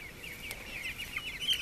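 Meat chickens being raised for a large family cluck in a farm setting, a steady chatter of several birds with a few sharper calls, fairly close and without talk.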